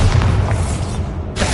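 The Bombarda spell blasting in Hogwarts Legacy on PS5, a heavy, booming explosion with a deep rumbling low end that fills the short moment loudly, with a brief brighter burst near the end.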